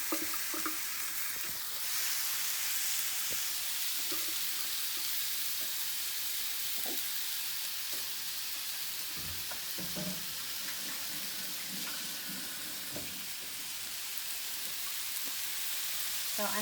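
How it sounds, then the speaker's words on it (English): Onion sizzling in a hot pan, frying steadily as a bed of crackling hiss throughout, with occasional clinks and stirring knocks from the pan in a home kitchen. "I'm going to put in the onion, and I can tell it's going to, yeah, you can hear the sizzle"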